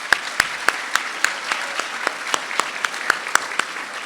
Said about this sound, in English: can we please give a big round of applause to the university administrators and our sponsors that are here with us